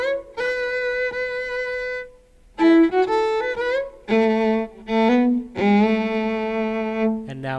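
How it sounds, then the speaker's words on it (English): A solo violin plays a song intro, sustained bowed notes in phrases separated by short pauses, close and clear with no voices. "So that intro just with the solo violin"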